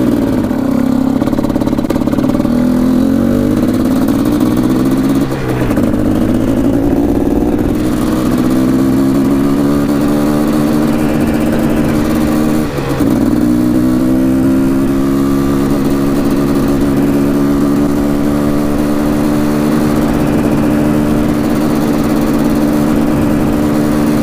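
A Quadzilla Banshee two-stroke quad engine runs loud and close, climbing steadily in pitch as it accelerates, with two brief dips as it shifts before winding up again in a sustained rising drone.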